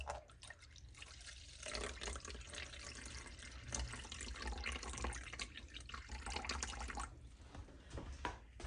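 Distilled water pouring steadily into a container, a continuous splashing trickle with small drips, close and fairly quiet.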